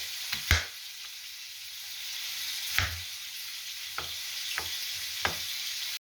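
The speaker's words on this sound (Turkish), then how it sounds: "balıkları ben arkalı önlü güzelce yine kızarttım" Steady sizzling of fish frying in hot oil in a pan, with a few sharp clicks and taps of a utensil against the pan.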